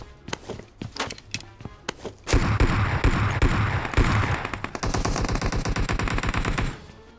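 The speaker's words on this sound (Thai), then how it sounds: "เสียงปืนอะไรอ่ะ มันล่อกูแล้วปืนอะไรไม่รู้" Gunfire crackles in a PUBG Mobile match. Scattered single shots lead into long, dense bursts of rapid automatic fire that hold loud and steady before they cut off near the end.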